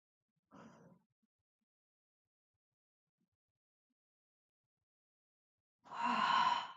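A yawn during a gentle yoga stretch session, with a short breathy exhale early on and a fuller, louder voiced yawn near the end, separated by silence.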